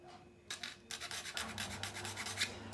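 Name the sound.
filing off a burr with a flat-edged tool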